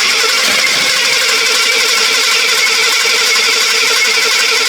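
An old Jeep engine that sat for 25 years turns over without catching, a loud, steady, continuous whir of the starter spinning the motor throughout, with no firing and no voices.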